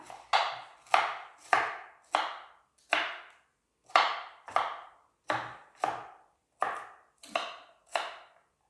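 A knife chops onions against a cutting board in a steady series of about fifteen crisp strokes, close by, with brief pauses between bursts.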